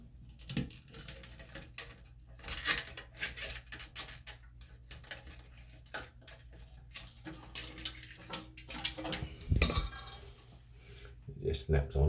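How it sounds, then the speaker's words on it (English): A rubber toilet flapper being snapped off the side ports of the flush valve, heard up close as a scattered run of small plastic clicks, knocks and clatters of uneven loudness. "the way the flapper works, it just snaps off of the side ports."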